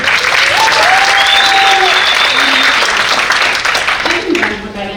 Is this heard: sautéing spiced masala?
no